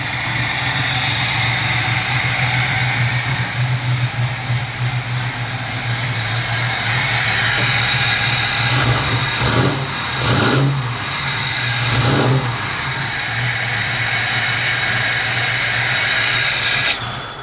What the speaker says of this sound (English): It is definitely misfiring as well, but let's let it run for a minute here and see what happens.